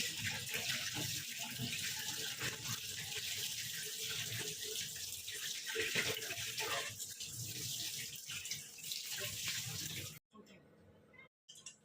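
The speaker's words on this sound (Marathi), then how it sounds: "त्याच्यावरती थंड पाणी करून असं मोकळं करून घ्यायचं" Cold tap water gushes over drained food being rinsed in a kitchen sink, a steady splashing stream that runs for about ten seconds before cutting off, with a voice talking over it.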